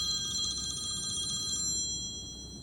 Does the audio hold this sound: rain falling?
no